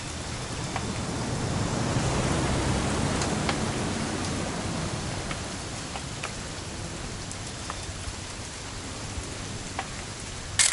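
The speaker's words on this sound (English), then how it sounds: "It's gonna rain the whole weekend" Steady rain falls throughout, a continuous broadband hiss with scattered droplet ticks on nearby surfaces, loud and close with no voices.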